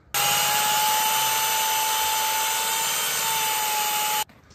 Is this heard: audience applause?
no